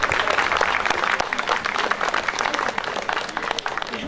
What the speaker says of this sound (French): Donc je pense qu'on peut l'applaudir, s'il vous plaît.